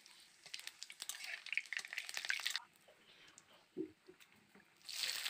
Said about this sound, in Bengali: এবার দিয়ে দিলাম কালো জিরে।